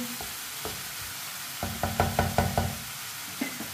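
Paste for a bitter gourd dish cooks in a pan, a soft sizzle with a run of sharp spoon knocks and stirring scrapes in quick succession, close and clear.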